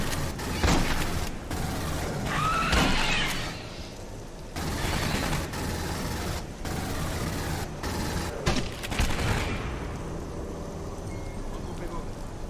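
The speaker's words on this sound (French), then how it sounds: "Vraiment j'ai tiré dans le vide." Dense gunfire and combat noise fill a firefight in the video game Aliens: Colonial Marines, steady and loud from start to finish, with someone speaking French over the shooting.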